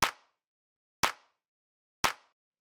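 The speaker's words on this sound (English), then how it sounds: "So the next thing we have here is the hand clap, which is 3 layers, and it sounds like this." A layered three-part hand clap sample for a house music track, three sharp identical clap hits spaced evenly about a second apart, each decaying quickly into silence.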